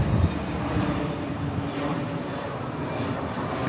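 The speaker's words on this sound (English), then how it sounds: "I hear the sound of an airplane." An airplane passes overhead near Fukuoka Airport, a steady, loud, broad engine roar that holds evenly throughout with no voices over it.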